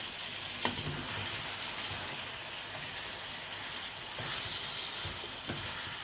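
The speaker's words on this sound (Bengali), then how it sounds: "এবার ভালো করে নাড়াচাড়া করে নেব মাংসটাকে।" Chicken meat for a Kolhapuri masala curry fries in a pan while being stirred, giving a steady soft sizzle with occasional scraping knocks of the spoon, close and moderate in level.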